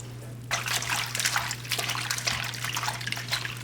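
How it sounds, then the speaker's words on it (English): Water from a tap trickles and splashes over Shanghai baby bok choy being rinsed in a kitchen, starting abruptly and then running in an uneven, close, splattering stream, with no talking. "wash and clean some Shanghai baby Bok Choy"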